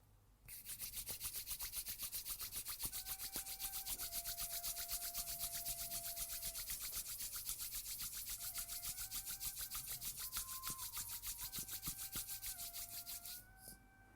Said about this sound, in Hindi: धीरे धीरे दोनों हाथों की हथेलियों को रगड़ें।